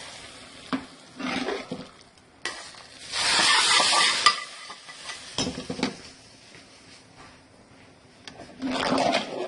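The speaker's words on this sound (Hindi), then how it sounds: "ये हमने जो लहसुन अदरक और ज़ीरे का बघार बनाया था तो ये हम इसको लगा देते हैं इस तरह" Hot oil tempering of garlic, ginger and cumin poured into a dish of rajma chawal, crackling and sizzling in bursts with a few utensil clinks, close by and without talk.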